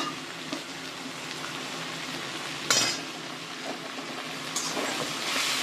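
Pumpkin pieces fry in a pan already holding onions, garlic, tomato, green chilli and ginger, a soft steady sizzle broken by a few sharp utensil clinks against the pan.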